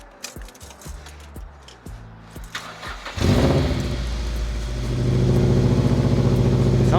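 A Mazda MX-5 NC with a newly replaced mid-pipe cranks over with a few rhythmic starter clicks, then catches and settles into a loud, steady idle up close, the engine note rising slightly toward the end.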